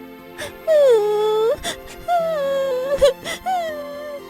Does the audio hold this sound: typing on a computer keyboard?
no